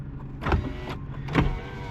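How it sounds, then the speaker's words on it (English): Electric power windows on a 1989 Honda Prelude whirring downward, two motor runs in quick succession with a steady idling engine rumble underneath. "Put the windows down. They work nice and quick."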